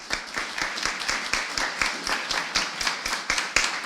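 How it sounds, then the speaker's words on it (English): Audience applause at a placements celebration event, a steady dense clapping of many hands, fairly near and sustained, with no talk over it. "So one last round of applause"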